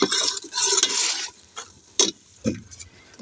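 Browned onions for a dal tadka being stirred in hot oil, with loud bursts of sizzling and scraping strokes of a spoon against the pan, close up and uneven in rhythm, with no talking.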